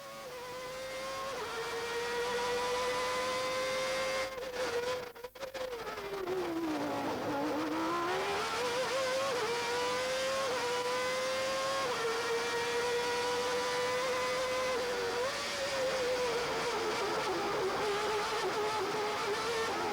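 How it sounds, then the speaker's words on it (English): Ayrton Senna's Formula 1 car screams through a qualifying lap at Monaco: a high, sustained engine wail rising and falling through gear changes, dipping sharply around a slow corner before climbing again, loud and close throughout. "We leave you now with pole position maestro Senna's qualifying lap at Monaco."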